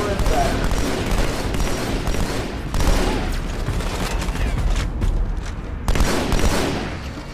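Sustained SMG fire in Halo: The Master Chief Collection, a dense continuous stream of loud shots with a few heavier bursts standing out, voices faint underneath.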